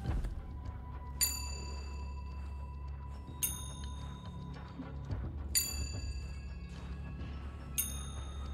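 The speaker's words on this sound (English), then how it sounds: "It's gotta be the same tone of the bells." Bells chime in a puzzle in the Resident Evil 4 Remake video game, striking four clear, ringing tones spaced about two seconds apart over a low ambient hum, each note decaying slowly.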